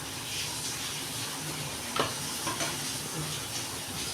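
A pot of fish molee curry bubbles quietly at a low simmer, a soft continuous hiss and faint bubbling with one or two small clinks, heard close with no talking.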